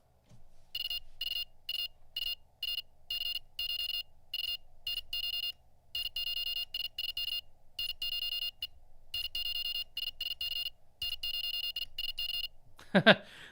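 Rapid high-pitched Morse code beeps at about 40 words per minute in quick bursts of dots and dashes, steady and clear, with a short rustle at the end.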